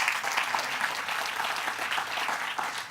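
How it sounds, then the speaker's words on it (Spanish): Church congregation clapping together during an evening worship service, a steady dense wash of applause throughout, moderately loud with no talk over it. "Den un aplauso a nuestro Dios en esta noche."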